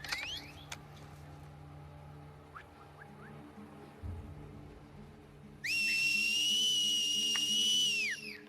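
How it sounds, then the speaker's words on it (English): Shrill whistles sound in The Last of Us Part 2, played in a train yard: brief faint whistle calls early on, then a loud sustained multi-tone whistle that holds for about three seconds before sliding down, over quiet ambient rumble. "I like the whistles."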